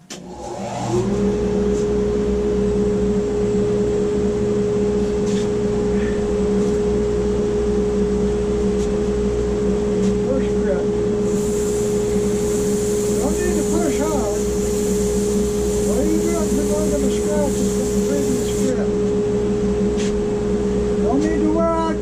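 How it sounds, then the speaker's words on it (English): A dust collector drones steadily in a woodworking shop where a cocobolo bowl is being worked, a loud constant whine and rumble holding for the whole stretch, with intermittent higher hiss and scraping layered over it. "I'm going to turn on the dust collector so you won't be able to hear me talking"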